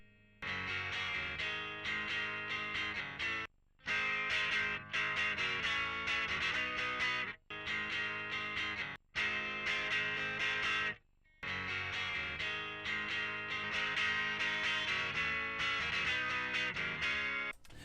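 Heavily distorted electric guitar on the neck pickup, using a preset, playing loud sustained chords with a few brief pauses, thick and warm in tone, no voices.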